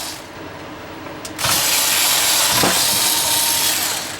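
Power screwdriver or drill running steadily at close range to remove the case screws of a Defeway D3108X 8-channel DVR, preceded by a brief click and a quieter stretch.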